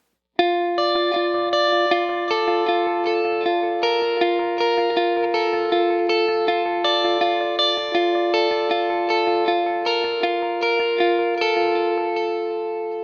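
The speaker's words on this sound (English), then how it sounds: "So the basic clean sounds like this with a single coil pickup." A clean electric guitar on a single-coil pickup through a Line 6 Helix plays a bright, ringing sequence of picked notes and chords with a light shimmer, steady and close, no voices.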